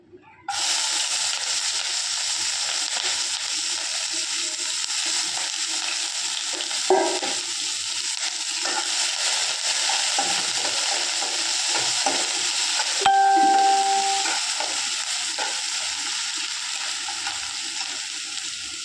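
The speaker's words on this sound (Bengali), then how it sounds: "পেঁয়াজ আর কাঁচা লঙ্কাটা দিয়ে একটু লাল লাল করে ভেজে নেব।" Onions and green chillies fry in hot oil after cumin seeds, a loud, continuous close sizzle with occasional stirring scrapes and clinks.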